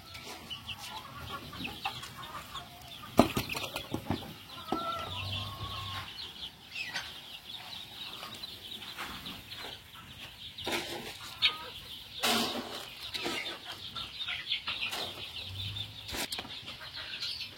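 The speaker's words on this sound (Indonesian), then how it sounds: "Kita lihat reaksi ayam dan mereka langsung mendekati tempat pakan." Chickens clucking and fluttering around a feeder as feed is poured, a faint, busy farmyard scene with scattered sharp pecks and wing flaps.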